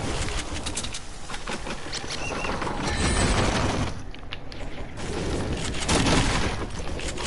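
Gunfire from a zombie shooter video game rattles in dense, noisy bursts throughout, with swelling volleys and no talking over them.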